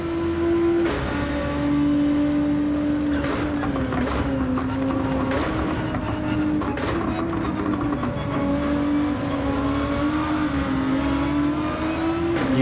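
A race car engine from Gran Turismo pulls hard under throttle, its loud, steady drone rising and dipping in pitch through gear changes as a Lamborghini runs nearby, with brief scrapes and tyre noise mixed in.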